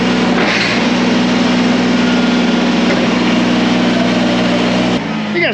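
A small Kubota tractor engine runs steadily at close range with a constant, even drone that cuts off abruptly near the end.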